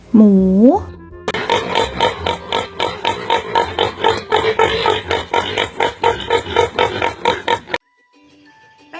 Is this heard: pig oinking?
yes